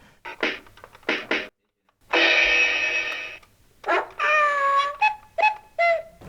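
A run of short electronic animal sounds from a toy drum pad set to animal sounds, ending in several quick, rising cat meows, each burst separated by brief pauses.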